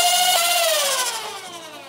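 A motorized Nerf blaster spins up with a high electric whine that bends downward in pitch as the flywheels settle, loud and close, then gradually fades.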